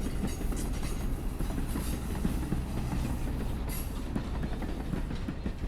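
The Lehigh Gorge Scenic Railroad excursion train rolls by close and loud, a steady roar of wheels on rails with rhythmic clickety-clack and a brief squeal near the end, no talking.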